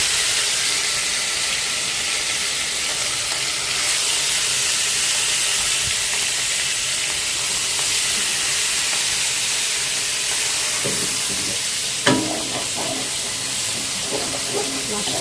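Fish fries in hot oil in a pan on a home stove, giving a steady, close hiss that fills the whole stretch, broken near the end by a few brief clinks and kitchen clatter.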